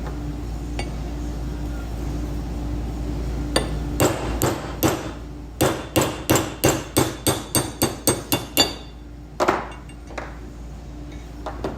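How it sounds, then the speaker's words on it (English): A press forces the wear bushing and seal out of an antique air cylinder, giving a fast run of sharp metallic knocks and clinks, about a dozen evenly spaced, loud and close over a low steady hum. "We're just gonna press everything out from the top."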